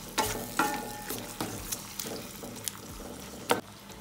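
Mashed tomatoes are sautéed in a pan: a soft, steady sizzle with sharp clinks and scrapes from stirring, the loudest near the start and just before the end.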